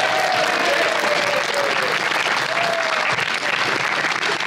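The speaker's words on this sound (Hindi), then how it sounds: "हमारे ऑडियंस के लिए तालियां।" A studio audience at a Pakistani television talk show applauds in a loud, dense, continuous burst, with faint voices mixed into the clapping.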